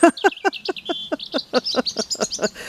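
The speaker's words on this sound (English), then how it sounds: "Yes, you can sing, birds, you can sing." Birds sing nearby in a quick series of bright, evenly spaced chirps and tweets, loud and clear with no other sounds.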